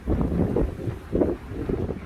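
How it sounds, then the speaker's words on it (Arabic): Cold wind blowing in Al Hoceima, a steady low rumbling gust buffeting the microphone with a couple of stronger surges, no voices. "فيه الريح"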